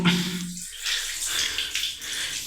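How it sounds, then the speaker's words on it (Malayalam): Water stored inside a broken pipe pours out in a steady rushing hiss after the valve has been shut. A brief low hum is heard at the start, then the continuous gush carries on alone. "ഇത് വാൽവ് കൂട്ടിയോണ്ട് വരുന്നതല്ല, പൈപ്പിൻ്റെ ഉള്ളിലുള്ള വെള്ളമാണ്. ഇത്രയും നേരം നിന്ന വെള്ളമാണ് കേട്ടോ ഒഴുകി വരുന്നത്."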